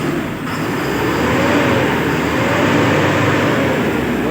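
A Sinotruk H3M truck diesel engine, fuel knock suspected, idling loudly and steadily at close range, a constant heavy rumble with no talking.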